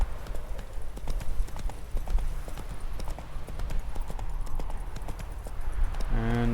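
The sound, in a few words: horse hooves galloping in video game The Witcher 3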